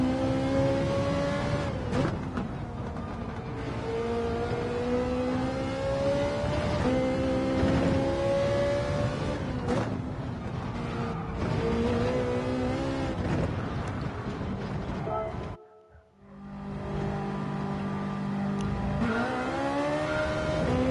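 A Ferrari race car engine in Gran Turismo 7 screams steadily near and loud, rising and falling through gear changes with one sharp lift-off dip before revving back up, no talk over it.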